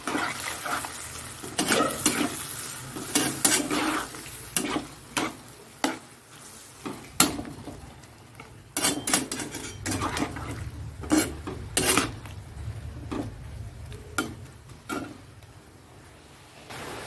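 Water and mustard go into a hot frying pan as a spoon stirs, with repeated clanks and scrapes against the pan over a soft sizzle, close by and without talk.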